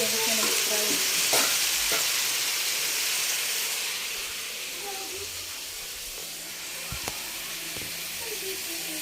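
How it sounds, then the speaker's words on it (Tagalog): Chicken with sweet potato sizzling and bubbling in a pan after Sprite is poured in, a loud steady hiss of steam and frying with occasional utensil knocks, easing slightly partway through. "Ngayon, pagkakuluan ko siya ng sprite. Lagay ko siya ng sprite."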